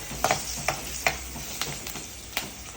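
Curry leaves frying in hot oil for tomato rice: a soft steady sizzle with a few sharp spoon taps and stirring clicks against the pan, close by.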